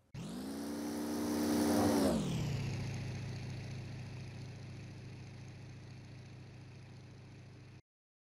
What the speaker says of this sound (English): Same with the engine noise of a passing plane.